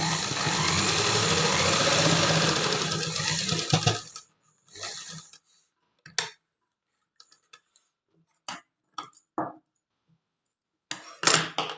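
A sewing machine stitches a pants pocket, running in a steady whirring burst for about four seconds, then falling quiet apart from scattered short clicks and brief handling noises.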